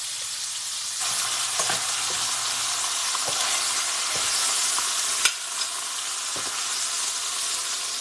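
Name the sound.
ribeye steaks frying in pan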